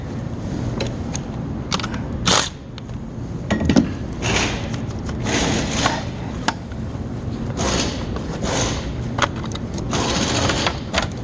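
A wrench loosens the 10 mm negative battery terminal nut on a 2013 Hyundai Elantra, giving close, steady runs of quick metallic ratcheting clicks with short pauses between turns.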